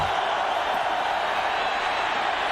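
Football stadium crowd at an NFL game between the Seattle Seahawks and Dallas Cowboys, a steady roar of cheering and noise-making that holds at a loud, even level throughout with no break.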